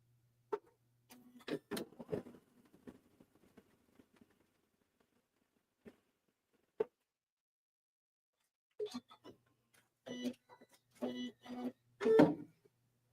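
A sewing machine stitches across the bottom of a bag's lining in short, quiet bursts of rapid ticking, separated by pauses of near silence and louder clusters toward the end.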